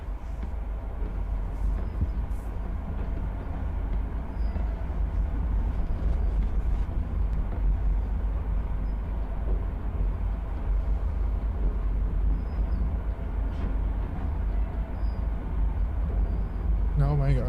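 Low rumbling of a train running in a video game, a continuous heavy drone with faint rattles and wind-like noise throughout, steady and close.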